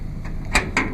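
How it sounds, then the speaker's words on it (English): A livestock trailer door being opened before unloading pigs: two sharp metallic clanks close together near the end, after a faint click, with a low rumble underneath. "And I'm going to open the door"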